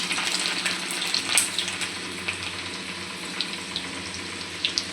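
Garlic sizzles and fries in hot oil for a simple home-style bhindi sabji, a steady close crackle with small pops and bursts throughout, no voices.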